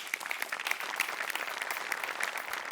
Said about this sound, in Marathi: सगळ्यात आधी सेटिंग डिपार्टमेंटसाठी जोरदार टाळ्या.